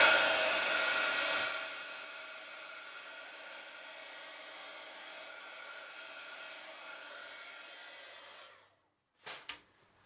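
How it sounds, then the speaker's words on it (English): Hot air from a heat embossing tool used to set gold embossing powder on paper flowers roars steadily and close, louder in the first second and a half, then cuts off near the end, followed by a couple of brief handling noises. "with your heat tool"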